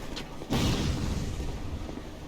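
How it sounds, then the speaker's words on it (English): A fire bomb barrel in Dark Souls 2 explodes with a sudden loud boom after a brief lead-in, followed by a rolling, rumbling tail that fades slowly, with no voices during it. "But watch out for your own explosion"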